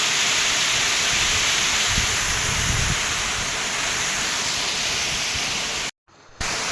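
The waterfall at Riat Nohkhlieh viewpoint plunges into a deep gorge with a constant hissing roar heard from the lookout, steady and full, briefly cutting out near the end.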